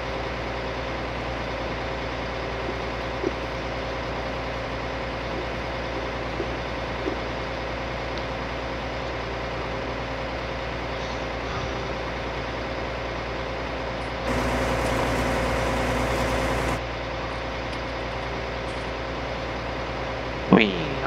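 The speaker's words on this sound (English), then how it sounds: "I really hope I can actually go up that hill. With this tractor and this load." A tractor engine pulling a load of bulbs and nuts up a hill drones steadily at a low pitch, continuous and close, with a louder stretch partway through.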